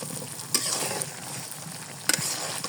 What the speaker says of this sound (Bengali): এখন অর্ধেক তেল দিয়েছি আর অর্ধেকটা রেখে দিয়েছি। মশলাটা ভালোভাবে কষিয়ে নেব।